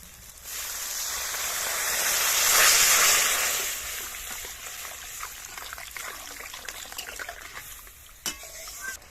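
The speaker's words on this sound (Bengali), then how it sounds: "মশলা থেকে তেল ছেড়ে গেছে, এবার জল দিয়ে দেবো।" Water is poured into cooked-down masala in a pan, a swelling splash and hiss peaking early and easing into soft bubbling and stirring, with a sharp clink near the end.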